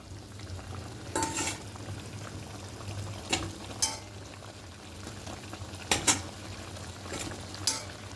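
Lemon chilli chicken with potatoes being stirred and sautéed in a pan: a low bubbling simmer underneath, with several distinct scrapes and clinks of a spoon against the pan at irregular intervals, close and fairly quiet.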